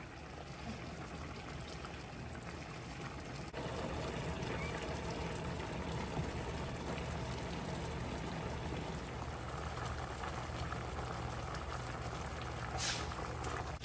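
Steady bubbling and rolling of boiling water in a pot, continuous and moderately loud throughout, slightly stronger after the first few seconds.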